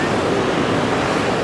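Water crashing at Cheonjeyeon Waterfalls on Jeju, Korea: a loud, steady broadband roar that never lets up, with some wind buffeting the microphone.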